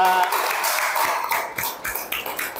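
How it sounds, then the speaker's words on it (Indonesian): A classroom group presentation draws applause from the audience, a dense patter of clapping that carries through the whole stretch with a few voices mixed in. "Tepuk tangan buat kelompok 2"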